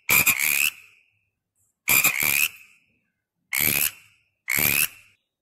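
A frog croaks in four loud, raspy bursts separated by silent gaps, close and alone.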